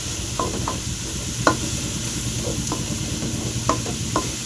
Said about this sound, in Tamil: அடுத்தது கொத்தமல்லி போட்டுக்கோங்க போட்டு ஒரு ரெண்டு அப்படியே ஃப்ரை பண்ணிங்க நல்லா